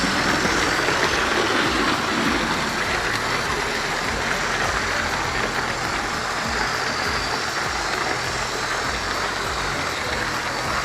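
A Lima locomotive in a video game, driving along with a steady, continuous engine drone and high whining tone that holds level and loud throughout.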